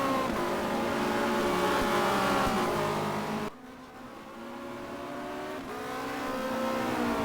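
Touring race cars with a strong Peugeot engine roar around the Nordschleife in a 1990 WTCC race, engines screaming through gear changes, dipping briefly as one pulls away, then building again as another car approaches.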